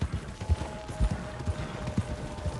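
Horse hooves pull a cart in the video game Red Dead Redemption 2, a steady clip-clop rhythm of repeated hoofbeats at close range, heard alone without speech.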